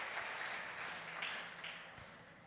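A church congregation applauding during a sermon, a faint, continuous patter of many hands that slowly thins toward the end, with no talking over it.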